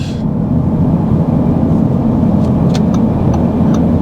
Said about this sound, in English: setting out here in the 2024 Audi A5 Sportback